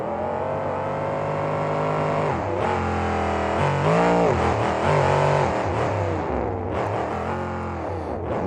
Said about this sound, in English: Let's have the fans listen to this throttle rhythm.